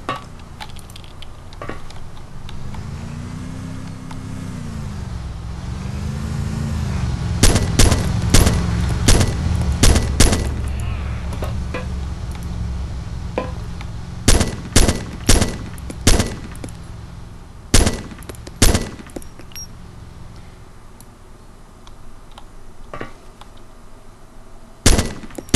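Gunfire in the video game DayZ Epoch: after a stretch of steady engine-like drone, a scattered run of single sharp shots and short bursts cracks out loudly and close, spaced irregularly, with no voices.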